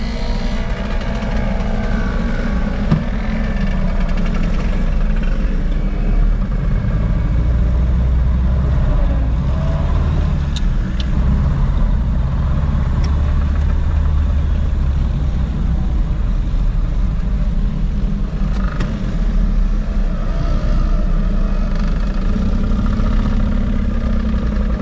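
A 1938 Austin 12 classic car cruising along, heard from inside as a steady low engine drone and road rumble that holds an even level throughout, with no voices.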